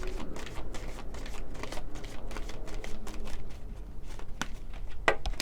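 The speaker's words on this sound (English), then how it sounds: "Let's get another card for pile number 3." Tarot cards shuffled for a pick-a-card reading, a close, rapid run of crisp riffling flicks and soft slides repeating steadily, with a sharper snap near the end.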